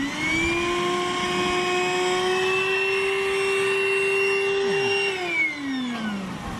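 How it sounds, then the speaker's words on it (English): An old DeWalt shop vac runs close and loud with a steady, even whine that holds for several seconds, then dips and winds down slightly near the end. No one speaks over it. "to start this thing, I've got a really old DeWalt shop vac"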